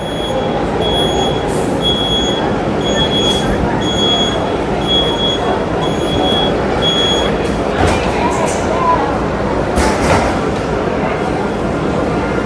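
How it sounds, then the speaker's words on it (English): Walt Disney World monorail train heading to the Magic Kingdom, heard from on board as a steady loud rumble with repeating electronic beeping tones, while people talk nearby. "boarding the monorail to the Magic Kingdom"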